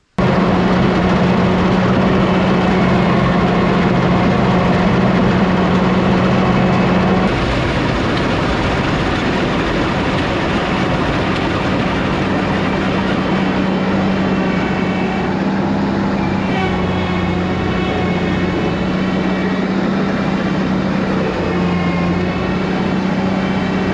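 A rebuilt 1974 swather cutting rye in a field gives off a loud, continuous mechanical drone with steady whirring harmonics. The tone shifts slightly after the first several seconds and then holds at a close, even level without talk.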